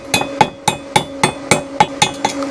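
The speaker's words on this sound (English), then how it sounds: "I don't have my chip hammer, but I got my Milwaukee one" A steady series of about nine sharp metallic hammer strikes chipping slag off a weld, evenly spaced and close, ringing slightly on hard metal.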